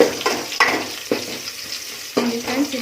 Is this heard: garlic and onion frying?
yes